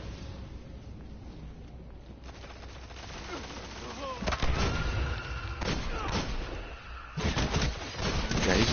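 Hand cannon fire in the video game Destiny, heard as a few sharp gunshot bursts amid other weapon fire and game effects, loud and close, with a speaking voice at times.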